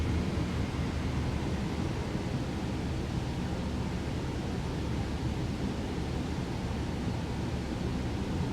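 Steady broadband wind rushing around a Cirrus Vision Jet on a three-mile final approach in Microsoft Flight Simulator 2024, constant and fairly loud with no gusting breaks, no talk.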